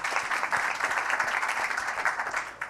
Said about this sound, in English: So warm applause for her as well